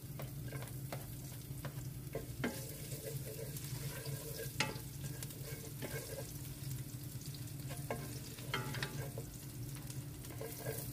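Garlic sizzles and fries in a pan for chicken rice curry, a steady hiss broken by occasional stirring scrapes and clinks of a utensil, close by with no talking.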